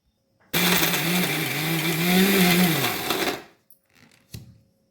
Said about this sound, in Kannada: ಇವಾಗ ಮಿಕ್ಸಿ ಜಾರಿಗೆ ಹಾಕ್ಕೊಂಡಿದ್ದೀನಿ ಕೆಲವೊಂದು ಜಾರಿಗೆ ಹಾಕಿ ಇದನ್ನು ಫಸ್ಟು ಒಂದು ರೌಂಡು ತಿರುಗಿಸ್ಕೊಂಡ್ಬಿಡೋಣ